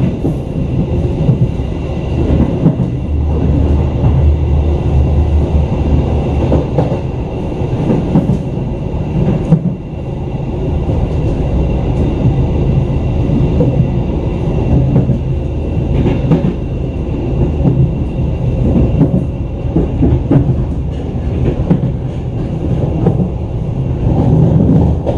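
Taksaka executive train running straight through track 2 at Bekasi station, a loud, steady rumble of wheels and carriages rolling past close by for the whole stretch, with no voices.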